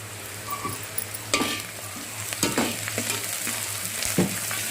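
Ginger garlic paste is stirred into a frying curry in a pan: a steady sizzle under a low hum, broken by several scraping stirring strokes at irregular intervals.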